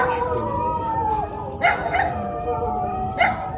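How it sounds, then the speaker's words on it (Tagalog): Several dogs howling at night in the Philippines, long wavering tones rising and falling together at a moderate distance, with a couple of sharper yips breaking through a steady background hiss. "yung mga aso guys, umaalulong na"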